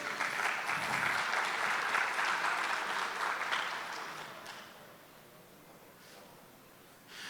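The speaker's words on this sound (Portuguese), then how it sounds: "Peço que uma salva de palmas, senhoras e senhores." A hall audience at a national road conservation meeting claps for a round-table moderator; dense applause holds strong for about four seconds, then fades to scattered clapping.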